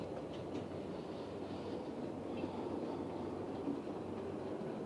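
A model train runs steadily on a model railway layout, a continuous soft rumble with faint clickety-clack from the wheels. The layout carries steam locomotives. No one speaks.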